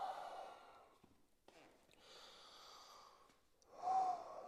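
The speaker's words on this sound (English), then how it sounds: "Give yourself a round of breath here." A yoga instructor breathes audibly while holding a low lunge, several slow sighing inhales and exhales close to the microphone with short pauses between them and no speech.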